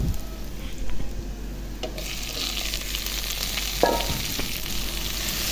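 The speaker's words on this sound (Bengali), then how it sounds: "আমি করলাটা এটার ভিতরে তেলের ভিতরে একটু কষিয়ে নিব মশলা দিয়ে" Bitter gourd (karela) being stir-fried in hot oil with turmeric and spices, a steady close sizzle with scraping stirs and a brief clink of the utensil midway, no talk.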